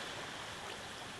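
Waterfall flowing in the Minecraft video game, a brief faint steady rushing wash of water with no voices.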